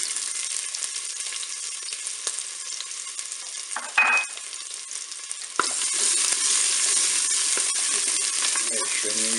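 Shallot and garlic sautéing in hot olive oil inside a Cookeo multicooker, a steady close sizzle that briefly clinks midway, then jumps louder and fuller as the garlic goes in, with no talking.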